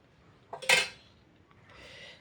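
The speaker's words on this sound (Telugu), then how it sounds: "ముందైతే ఇగొండిలా కడాయి అయితే పెట్టుకుని 1 టేబుల్ స్పూన్ అంత ఆయిల్ మాత్రమే వేసుకుందాం." A kadai is set down on a stovetop with a sharp metallic clank and rattle, followed by a soft, faint pour as about a tablespoon of oil goes into the pan.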